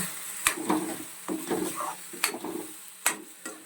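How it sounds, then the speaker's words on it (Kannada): Ground masala paste for paneer tikka masala frying in a pan, soft sizzling broken by several sharp scrapes and clicks of a spoon stirring, close but fairly quiet, with no voices. "ಸೊ ಇದನ್ನು ನೀಟಾಗಿ ಫ್ರೈ ಮಾಡ್ಕೊಳ್ಳೋಣ"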